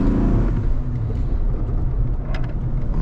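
A 2000 Ford Ranger extended-cab 4x4 Sport with the 4.0 engine, heard from inside while driving: a loud, steady engine rumble and road drone with light rises in revs throughout.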